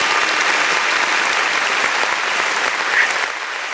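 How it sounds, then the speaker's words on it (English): Steady, dense applause from a small group during a live hip-hop debate podcast, loud and continuous for several seconds before easing slightly at the end. "let's get a clap out of that."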